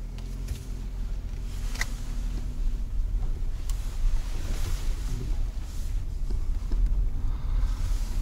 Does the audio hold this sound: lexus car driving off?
yes